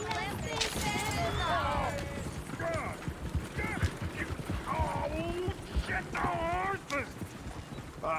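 Horse hooves clip-clop at a steady walking rhythm in the western video game Red Dead Redemption 2, over a background of game ambience. Voices talk over the hoofbeats.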